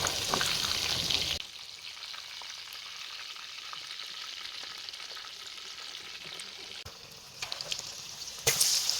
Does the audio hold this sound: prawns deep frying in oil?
yes